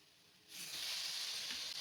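Button mushrooms and small onions hit hot oil and start sautéing, a soft bright sizzle swelling up after a quiet moment and holding steady, close and faint.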